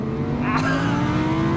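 The V10 engine of a 2021 Audi R8 revs hard and sings with a loud, steady, rising mechanical howl, heard close and continuous for the whole short stretch.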